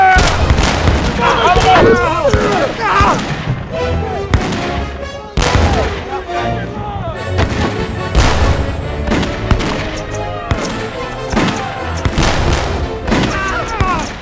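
Muskets fire in volleys during a staged reenactment of the Battle of Bunker Hill, with loud, rolling bursts of gunfire mixed with shouting voices and a dramatic music score throughout.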